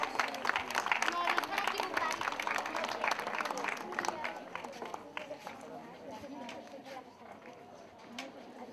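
A crowd applauds women athletes of a Barcelona running club at an award ceremony for a five-mile women's race, steady clapping with a voice over a loudspeaker talking throughout.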